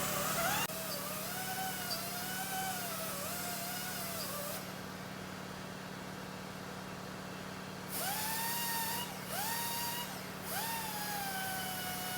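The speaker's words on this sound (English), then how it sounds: "I'm gonna come over here with this little deburring tool on the die grinder" A die grinder with a small deburring tool whines at high pitch while grinding rust from a Subaru Crosstrek's wheel bearing housing, cutting off midway and returning in several short bursts.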